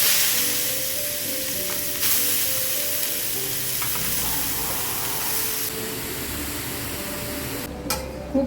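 Grated carrot fries in ghee for gajar halwa, giving a steady close sizzle with faint stirring scrapes throughout.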